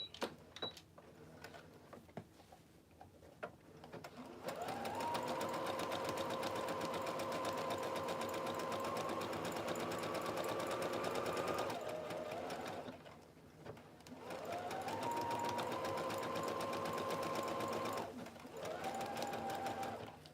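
A sewing machine stitches Ankara fabric while backstitching, running in two long steady bursts with a short pause between them and a brief restart at the end, heard close and alone.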